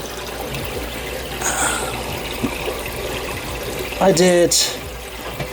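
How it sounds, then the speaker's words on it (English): Water gushes steadily down into the overflow box of a newly plumbed 135-gallon reef tank, a continuous close trickling rush with a person speaking briefly over it. "Water is gushing down and I want to raise the level in the overflow box"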